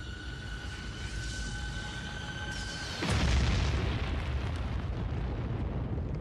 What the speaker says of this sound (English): A falling rock in the shape of an asteroid or comet slammed into Central Australia.